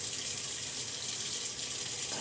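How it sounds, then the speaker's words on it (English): A cold water tap runs at about half flow into a sink, giving a steady, even hiss that lasts the whole stretch with no talking. "Don't need a massive flow of water, so I'm going to leave it on about half full"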